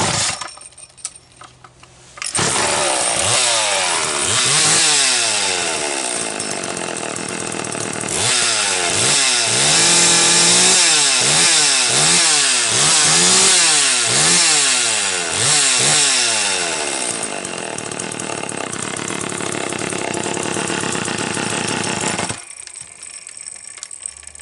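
A Homelite 150 chainsaw fires up close by after a brief quiet start, then runs loudly, revving up and down repeatedly in rising and falling waves before cutting off near the end.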